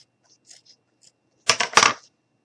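Scissors snip off extra material while making gnome legs for a craft, two quick close cuts after faint small rustles, with no talking.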